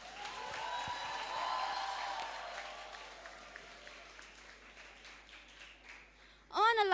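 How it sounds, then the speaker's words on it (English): Applause from an audience at a Model UN conference event, honouring special guests: a steady wash of clapping that slowly fades, followed by a sudden loud burst of sound at the very end. "Can we have a huge round of applause for them?"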